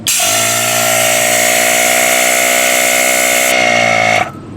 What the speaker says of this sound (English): Compressor will pump up till it's pressurized.